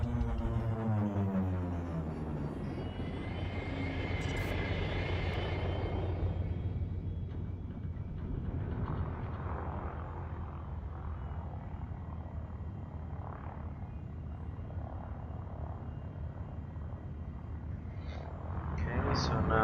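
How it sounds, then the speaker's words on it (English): Spaceship thrusters in the game Elite Dangerous, used for a vertical descent toward a planet's surface, give a loud, steady, rumbling roar with a whooshing swell early on, running continuously for the whole stretch. "now let's start using our vertical thrusters to approach the planet's surface"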